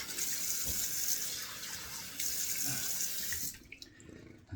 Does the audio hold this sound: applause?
no